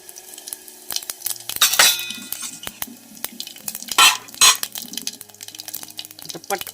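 Cumin seeds hit hot oil for a tempering in a pan over a village wood-fired stove, bursts of crackling sizzle rising and fading between clinks and scrapes of utensils against the pan, close by.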